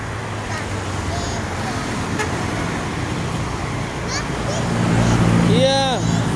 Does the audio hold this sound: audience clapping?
no